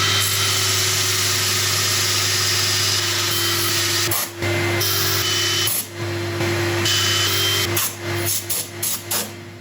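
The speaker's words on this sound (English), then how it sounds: "I'm going to start sanding." A black locust and soapstone resin turning being sanded on a wood lathe: a steady motor hum with a continuous high hissing whir, broken by brief dips near the end as the sanding pauses and resumes.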